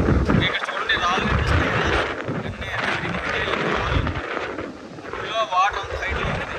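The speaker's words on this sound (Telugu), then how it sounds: "అంత విండ్ ఉంది, స్ట్రాంగ్ విండ్ మాట" Strong wind gusts across a microphone on a rocky beach, giving a loud rumbling buffet that rises and falls, with a voice talking intermittently beneath it.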